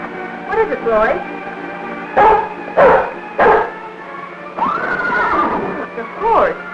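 A horse neighs and whinnies several times in short, loud bursts, with brief pauses between calls and a long shrill whinny near the end.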